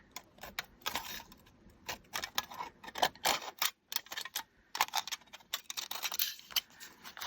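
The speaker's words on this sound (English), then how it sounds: "My scissors want to just slide right through this" Scissors cut through embossed foil paper in a quick run of close, crisp snips and crinkly clicks that carry on for several seconds without speech.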